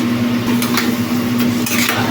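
Sugar is stirred into a vegetarian cauliflower and potato curry in a pan, giving a steady close sizzle with a few soft scraping strokes and no talking.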